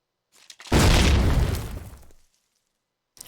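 A single loud grenade explosion in a Call of Duty video game, a sharp booming burst that tails off over about a second and a half, with a faint pop beforehand and quiet afterward.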